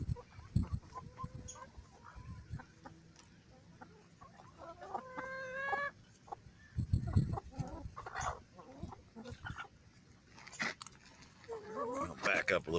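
Chickens cluck and squawk close by while feeding on scraps cleaned out of a refrigerator, with irregular bursts of calls and someone talking intermittently over the flock.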